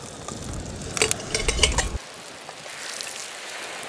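Whole onions fry and are stirred in a pan for a fish curry cooked outdoors on a beach. There is a short burst of sizzling with utensil scrapes and clinks, followed by a faint, steady hiss.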